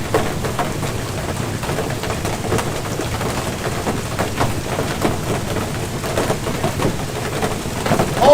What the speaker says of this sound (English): It's covered in hail.